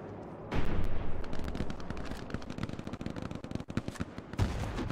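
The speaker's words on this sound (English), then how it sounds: "Oh, that's a grenade." In the Band of Brothers video game, a grenade blast erupts into loud, dense rumbling, with rapid crackling gunfire-like bursts continuing close by and a second heavy thump near the end.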